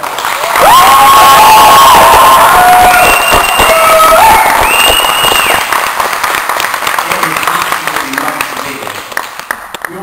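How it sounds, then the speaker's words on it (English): Loud crowd applause and cheering from a large audience, with whoops and shouts rising over dense clapping that holds steady, then slowly thins out. "Can I just ask you to give a great big round of applause to Tony and Tom, because you put this thing"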